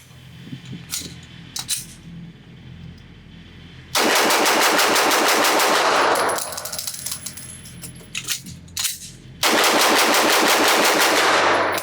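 A Glock 19 Gen 3 pistol is fired in rapid strings after a quick magazine change at a range, loud close bursts of sharp shots split by a pause with handling clicks and brass clinking.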